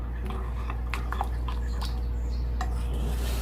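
A besan khandoiyan batter with green chillies and spices is mixed slowly in a bowl, giving soft, sparse scraping and tapping strokes over a low steady hum, faint and close, with a little speech.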